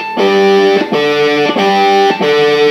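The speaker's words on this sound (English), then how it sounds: "the thing about an electric guitar with distortion is that it really emphasizes these beat frequencies" Distorted electric guitar sounding a sustained double stop, D with G or A, struck four times in a steady rhythm, loud and close with a buzzing, harmonically rich tone and audible beat frequencies.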